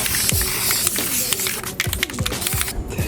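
A spray can applies VHT Niteshade tint to Nissan 370Z tail lights in short hissing bursts, close and uneven, with small clicks and handling noises between sprays.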